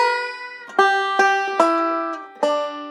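A solo banjo plays a short ending lick: a held ringing note, then four bright picked notes in an even rhythm, each ringing out, clean and close with no voices.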